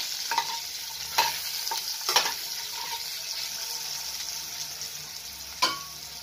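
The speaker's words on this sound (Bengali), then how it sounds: "আর এটাকে আমি নাড়াচাড়া একটু করে একটু যাতে আলুটা নরম হয়ে যায়" Potatoes with turmeric and salt are stirred in a frying pan under a soft steady sizzle, with several sharp spoon knocks and scrapes against the pan at irregular intervals; no voices.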